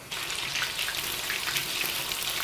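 Jumbo shrimp deep frying in hot oil, a steady crackling sizzle with fine popping bubbles, close and even throughout without any talk.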